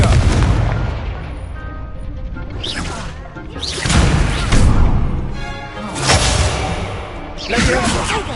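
Several Confringo fire-spell blasts in Hogwarts Legacy, each a whooshing launch followed by a booming burst. They come a second or two apart over a steady background rumble.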